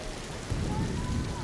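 Heavy rain pours steadily in a dramatized nighttime scene, a dense, continuous hiss with low rumbling that swells slightly partway through, close and enveloping.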